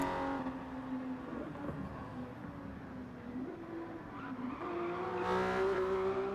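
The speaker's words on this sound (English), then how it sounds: "he's doing a nice burnout for us" A race car in a racing video game at Mount Panorama does a burnout, engine holding a steady loud drone while tires squeal, then revving higher toward the end.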